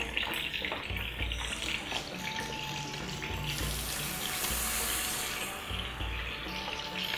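Water pours steadily onto rice in a constant splashing stream, fairly soft and close, with a faint background hum and no talking.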